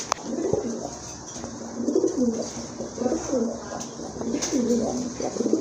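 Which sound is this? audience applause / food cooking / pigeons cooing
pigeons cooing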